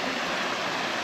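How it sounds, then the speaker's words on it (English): A creek and small waterfall in the Tasmanian wilderness near Lake Vera Hut rush in a dense, steady broadband roar, close and loud with no voices. "Beautiful little creek and waterfall in here."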